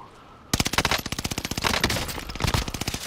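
Rapid automatic gunfire from the video game Call of Duty starts abruptly after a quiet moment, loud close shots in a fast steady rhythm, with a few brief pauses between bursts.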